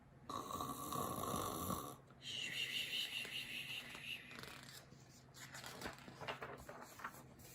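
A voice imitates a bear snoring during a read-aloud of a children's story, with soft, close snores in a few drawn-out breaths.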